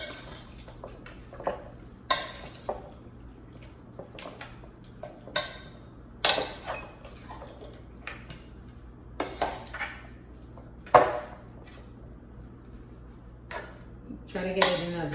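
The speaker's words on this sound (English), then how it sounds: "I'm gonna use my spoon and just mix everything together" A spoon mixing Jamaican-style cow foot with ketchup and beans in a bowl, giving scattered sharp clinks and scrapes against the dish, close, with quiet gaps between strokes.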